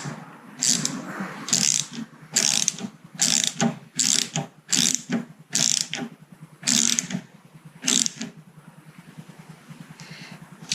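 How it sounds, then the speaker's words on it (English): A ratchet tightens a pipe clip on an Austin A30 heater, giving about ten loud, close bursts of rapid clicking separated by short pauses. "I'm going to put it on there as far as I can get it and tighten it up."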